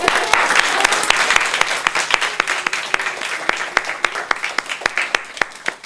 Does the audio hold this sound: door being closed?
no